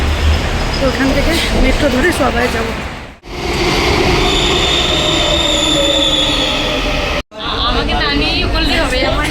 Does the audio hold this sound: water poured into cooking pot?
no